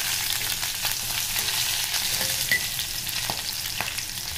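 Chilies, curry leaves and bay leaf fry in hot oil with a dense, even crackling sizzle and occasional faint clinks from the pan, close and without speech.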